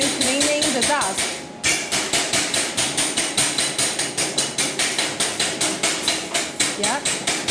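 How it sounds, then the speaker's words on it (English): A small hammer chips slag off a fresh weld bead made with an MMA arc welder, producing a loud, steady run of rapid metallic taps, about four per second, close by with faint voices underneath. "the small hammer is a good helper when you're cleaning the dust."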